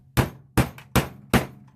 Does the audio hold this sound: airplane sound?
no